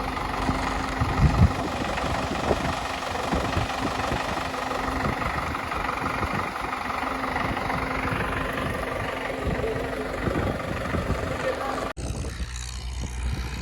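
A tractor engine idles in a farm field with a steady low rumble and vibration, cutting off abruptly near the end.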